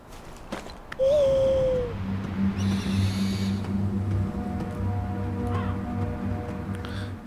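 An owl in the prehistoric game Far Cry Primal gives a single sliding hoot, followed by a steady droning ambient bed with soft game effects underneath.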